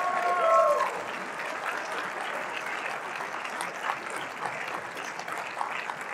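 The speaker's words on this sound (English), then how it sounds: "give this one a applause, please." Audience applause at a high school winter instrumental music concert, a dense steady wash of clapping that holds throughout, with a brief bit of voice or tone at the start.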